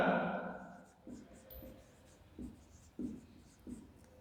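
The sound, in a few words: writing on a board during a lesson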